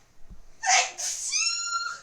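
A single sharp sneeze in the video game Broken Sword: Shadow of the Templars bursts out after a quick breath, followed by a high, whimpering tail of sound, close and fairly loud.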